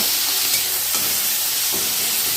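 Chopped tomato frying with onion, garlic and cumin in hot oil, a dense continuous sizzle and hiss heard up close, with faint stirring scrapes and no talking.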